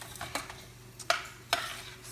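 Onion and celery soften in a pan for stovetop stuffing, producing a quiet low sizzle with a few distinct scraping stirs of a spoon against the pan.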